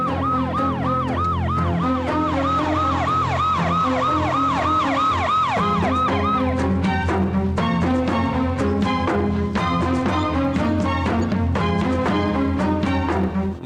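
Loud ambulance siren wailing in steady rising-falling cycles, then switching to a rapid pulsing yelp that continues to the end, close and alone without talk.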